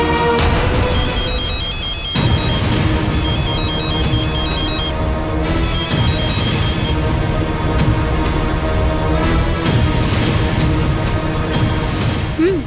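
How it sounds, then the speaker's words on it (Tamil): A phone call rings as an electronic ringtone, repeating short bursts of bright tonal ringing across the stretch with brief gaps between them. "ரிங் போயிட்டு இருக்கு"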